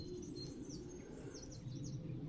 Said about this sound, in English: so quiet, it's just the birds